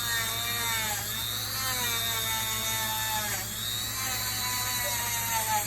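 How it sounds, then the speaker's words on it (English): A Dremel rotary tool buffs a sterling silver twist wire ring with polishing compound, a continuous high whine with wavering pitch and a steady hum underneath, moderately loud throughout. "taking our Fabuloster polishing compound and our Dremel"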